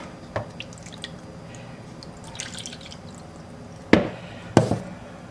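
Water goes into the base of a plastic Tupperware microwave steamer up to its fill line. Soft drips come first, then two sharp, close splashes of water into the container near the end.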